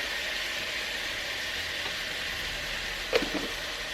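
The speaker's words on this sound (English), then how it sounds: "And we're gonna add some minced onions" Minced onions tip into a pan of hot oil for a tortellini soup with Italian sausage, giving a steady broadband sizzle with a brief sharper hiss and crackle near the end as they land; no one speaks.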